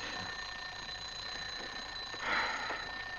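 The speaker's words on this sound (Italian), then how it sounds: "La sveglia." An alarm clock rings steadily and continuously at a moderate distance in a quiet room, its bell-like tone holding unbroken for the whole stretch, swelling slightly louder near the end.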